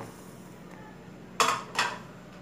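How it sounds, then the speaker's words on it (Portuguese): Two quick metallic clanks, close and fairly loud, as one frying pan is set on top of another and the pair is flipped over while corn and egg cook inside; a soft kitchen hum sits beneath. "uma frigideira em cima da outra e virei"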